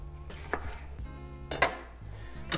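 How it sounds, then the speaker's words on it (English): A knife slices through a lemon and a lime on a cutting board, giving a few sharp chopping knocks at irregular intervals with light clatter, close and fairly quiet, no talk. "we're gonna cook it using the citrus from a lemon and a lime. So cut them in half."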